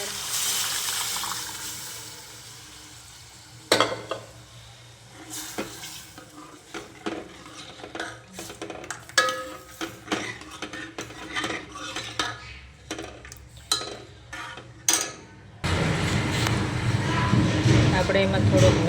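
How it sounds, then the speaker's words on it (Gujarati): Urad dal tipped into a hot tempering in a pan for dal dhokli, followed by a spoon scraping and clinking against the pot in irregular strokes over a soft sizzle, ending in a louder burst of bubbling; someone talks over it. "તો હવે આપણે એમાં નાખી દઈએ આપણે અડદની દાળ"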